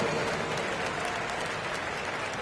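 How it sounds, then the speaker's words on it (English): Crowd applause at a youth basketball game, a steady wash of many hands clapping at moderate volume, continuous and unbroken for the whole moment. "give a big round of applause for your Raptors, U16"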